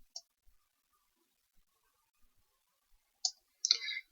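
Computer mouse clicks, a few sharp isolated clicks spaced apart in near silence, followed by a slightly longer clicking burst at the end.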